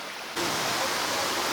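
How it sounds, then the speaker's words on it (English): A waterfall roars near a jungle trek trail in Muang Ngoi, Laos: a steady broadband rush that swells abruptly louder after a quieter moment, then holds even and close. "I think we're getting close to the waterfall now."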